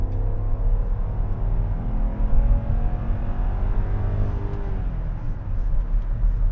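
A 2013 Range Rover Sport HSE accelerates at full throttle, its engine giving a steady, moderately loud drone with a rising low hum, heard from inside the vehicle without talk.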